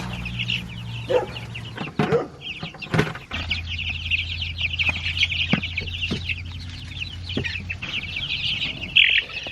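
Several chickens cluck and chatter continuously nearby, with a low hum and a few sharp knocks and rustles mixed in.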